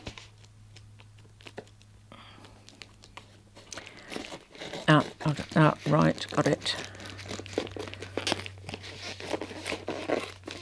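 Crinkling and crunching of a shrink-wrapped package being cut open with blunt scissors, with a burst of rustling and snipping in the middle and a low steady hum underneath while a person speaks briefly.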